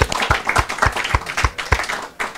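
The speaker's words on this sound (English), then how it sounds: "So a round of applause." Scattered, uneven clapping from a small panel-discussion audience, loud and close, with individual claps clearly audible rather than a full roar.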